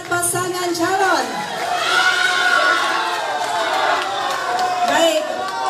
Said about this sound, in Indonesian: kita beri tepuk tangan untuk keempat pasangan calon